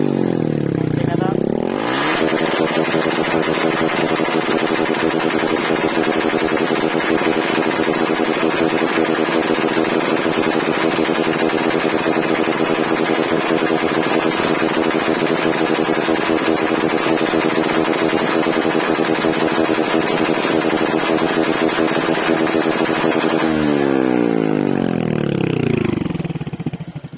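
A motorcycle fitted with a tube-type Taikom power pipe exhaust runs with no silencer, a loud continuous rasping engine note held steady for most of the stretch, rising at the start and falling at the end, heard close.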